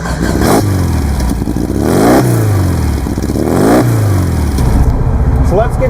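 A handcrafted Runge RS016 car engine fires up and revs, rising and falling in several loud, throaty swells with mechanical clatter, close by.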